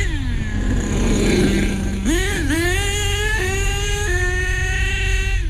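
A nitro RC car engine screaming close by, its high-pitched whine dipping and then climbing in pitch through several quick revving steps, loud and continuous throughout.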